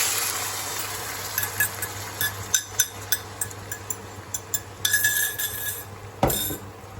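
A spoon clinks and scrapes against a slow cooker pot while beef stroganoff is stirred into stock, giving a steady series of sharp metallic taps over a low hum, then a louder clatter near the end.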